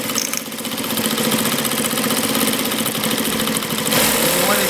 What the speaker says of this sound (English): And we put a lock stitch as you see it sewing.